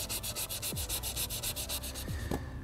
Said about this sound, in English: then I'll rub down the complete area,